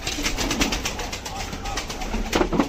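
Pigeons coo softly in a loft, a low murmuring chorus that keeps going throughout under steady background noise, with a few louder bursts near the end.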